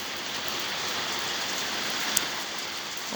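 Steady rain falls in Norway as a soft, even hiss of drops on surfaces, continuous and fairly faint, with one tiny sharp tick partway through.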